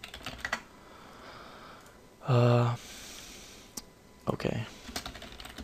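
Fingers tap a computer keyboard in quick clattering bursts at the start and near the end, close by, with a brief tone and a short spoken word between them.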